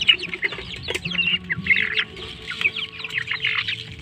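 Several chickens cluck and chirp nearby in an irregular, overlapping chatter, with small peeping calls scattered throughout.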